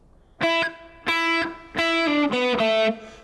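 A blues shuffle lick plays on a slightly distorted electric guitar: four clear phrased notes, with the later ones bent and sliding, close and alone with no talk.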